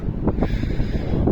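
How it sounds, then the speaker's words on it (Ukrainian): Brief bursts of wind buffeting the microphone, a few low rumbling puffs in quick succession, outdoors in fields in Ukraine. "Перепрошую за вітер."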